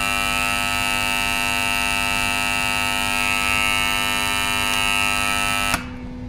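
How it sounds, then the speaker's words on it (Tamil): A voltage fluctuation alarm sounds as soon as power is connected: a steady, loud electronic buzzing tone with a mains hum that rings continuously and then cuts off abruptly near the end. "அலாரம் அடிக்குது."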